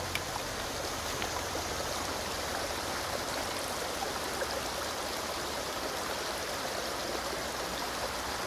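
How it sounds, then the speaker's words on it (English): A steady rush of water pouring and splashing continuously, fairly close, with no voices, as boiled potatoes are drained through a drainer at a winter woodland camp. "So I'm going to drain"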